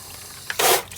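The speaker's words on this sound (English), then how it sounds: "water that's going to flow from this height down into the basin" Water poured from a height down into a basin, a short loud gush that bursts in after a brief splash and fades quickly, nearby with no talk.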